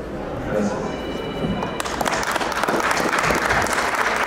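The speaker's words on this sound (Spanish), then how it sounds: "Fuerte los aplausos para el marido Lucio García." Wedding reception guests burst into loud applause for the groom, the clapping swelling after a brief lead-in and continuing densely to the end, with voices and crowd noise mixed in.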